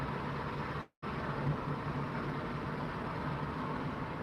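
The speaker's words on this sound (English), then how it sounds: "Car definitely sounds like a tank." A car engine rumbles steadily while driving along British roads from Wigan toward Ashton-under-Lyne. It gives a low, diesel-like drone that is heavy enough to suggest a tank or tractor, with one very brief dropout near the start.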